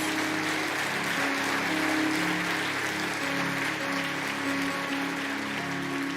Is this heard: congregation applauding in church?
yes